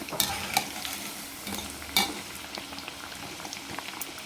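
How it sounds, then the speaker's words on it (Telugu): Chicken nuggets fry in hot oil with a steady close crackle, sharp sizzling pops bursting out at a few points and a light scrape of stirring, with no voices. "ఆల్మోస్ట్ అన్నీ మనకి వేగిపోయాయి"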